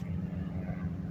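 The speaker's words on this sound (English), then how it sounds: "Sorry about the helicopter" Steady low engine rumble of a helicopter overhead, continuous and fairly loud throughout with no talking.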